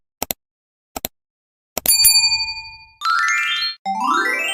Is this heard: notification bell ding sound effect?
yes